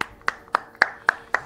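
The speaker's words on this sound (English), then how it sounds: "Give this son of a bitch a good clap for that one." Six evenly spaced hand claps, sharp and close, steady and slightly slow, with quiet gaps between them and no talking.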